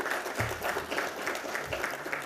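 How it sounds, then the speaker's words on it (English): A seated audience at an Indian Navy seminar on indigenisation gives a short round of moderate applause, the clapping fairly soft and even, with a faint voice briefly underneath. "Ladies and gentlemen, that calls for an applaud to the Indian Navy."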